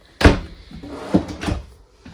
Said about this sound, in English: And you get a big drawer right at the bottom of it.